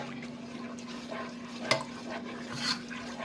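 Red curry with coconut milk and mussels simmers in a pan, with a soft bubbling sizzle, occasional stirring scrapes and a sharp clink of utensil on pan.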